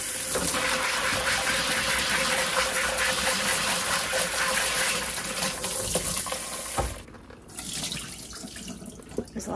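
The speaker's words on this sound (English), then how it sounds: "So I'm going to go ahead and rinse out the mushrooms." Tap water runs loudly and steadily into a sink while mushrooms are rinsed, the rushing flow continuing for several seconds before it suddenly cuts off, leaving a softer trickle and faint splashes.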